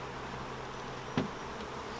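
Honey bees hum in a steady, dense drone inside a packed hive while honey supers are added, with a brief soft knock partway through.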